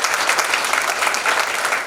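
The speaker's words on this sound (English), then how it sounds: "Let's give a round of applause for them." An annual day event audience gives a round of applause for donors and trustees, a brief burst of dense, even clapping heard up close with no speech.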